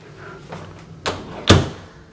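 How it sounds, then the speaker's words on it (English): Interior door, just repaired with longer screws in a stripped hinge, swung and shut: a few soft knocks build to two sharp latching thuds near the end, close and alone. "Let's just test the door real quick."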